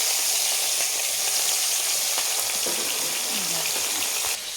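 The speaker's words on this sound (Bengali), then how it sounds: "তেলটা আমি চারদিকে একটু কড়াতে এভাবে ভেজে নিব" Oil sizzles and crackles steadily in a wok, a continuous hiss with scattered pops, heard up close.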